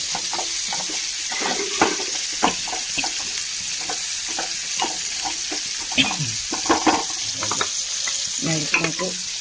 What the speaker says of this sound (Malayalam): നമ്മൾ മുളകൊക്കെ മൂത്ത് വന്നിട്ട് അതിലേക്ക് കുറച്ച് നാളികേരം ഇട്ട് കൊടുക്കാം